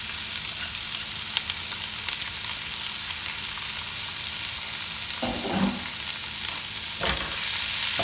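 Onion fries with toasted cumin seeds in a hot pan, giving a continuous sizzle broken by a few short stirring clunks and scrapes.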